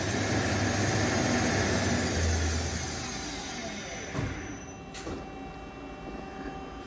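A Mori Seiki CL-25B big bore CNC lathe with a 12-inch Kitagawa chuck spins at 2000 RPM, giving a steady, fairly quiet mechanical hum that eases slightly and stays even, with no talk over it.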